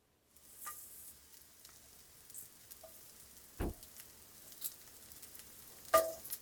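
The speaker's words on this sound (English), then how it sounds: "Let that swirl around, and then we're going to add in our mushrooms cut side down." King oyster mushrooms sizzle cut side down in olive oil in a cast iron skillet, a steady soft frying hiss with scattered pops and crackles and one sharp clatter near the end.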